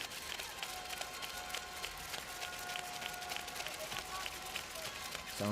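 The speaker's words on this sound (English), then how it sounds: "Some Yokohama fans trying to make as much noise as they possibly can." Crowd of Yokohama fans at a midweek professional basketball game making steady, sustained noise throughout, with cheering and clapping at a moderate distance and no clear spoken words.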